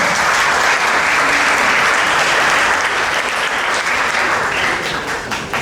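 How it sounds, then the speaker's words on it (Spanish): Applause at an international aesthetic medicine congress as a doctor is welcomed to the stage, a dense, steady wash of clapping from a large audience that holds strong for several seconds. "La recibimos con un gran aplauso a la doctora"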